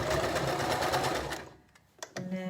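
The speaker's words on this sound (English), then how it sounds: "So just continue to sew around the curved seam" A sewing machine stitches a curved seam on a tailor's ham, a steady close whirring run that stops partway, followed by a few clicks and a brief restart.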